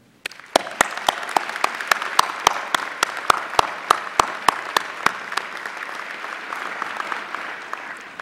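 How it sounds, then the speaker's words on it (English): Applause from a graduation ceremony audience for graduating students, steady clapping with a few sharp, distinct, evenly spaced claps standing out up front, sustained throughout. "Let's all have one more applause for all of them."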